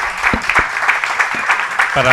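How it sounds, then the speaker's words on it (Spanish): An audience applauds, with brisk clapping running throughout and a voice speaking briefly near the end. "Un aplauso para ella."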